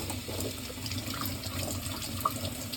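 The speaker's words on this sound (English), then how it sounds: "you want to first wash each one on its own with the water, just like this" Tap water runs in a steady, even stream while bell peppers are washed one at a time under the faucet, a continuous close splashing hiss with a brief brighter drip near the end and no talking.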